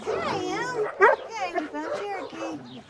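Dog barking and whimpering indoors in short yips and whines, close by and mixed under a person speaking throughout.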